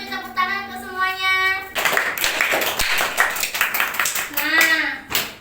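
A primary school class claps for everyone during a civics lesson on caring for the environment: a voice speaks first, then lively, uneven hand clapping follows with voices mixed in.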